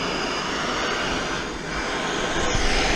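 A torch flame roars steadily while heating the engine case of a 1989 Kawasaki KX250 motorcycle to seat a crank bearing, a close, continuous broadband hiss with no talk.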